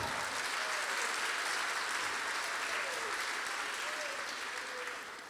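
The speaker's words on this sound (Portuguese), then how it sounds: "Uma salva de palmas para nós." Applause from a church audience for a couple celebrating 25 years of marriage, a dense continuous wash of clapping that stays level and begins to ease near the end.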